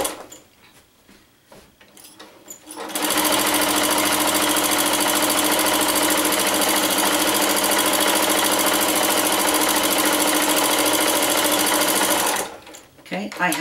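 Sewing machine stitching a row across a quilted sewing machine cover: a few quiet handling clicks, then a steady, fast, close mechanical whirr running for about nine seconds before stopping.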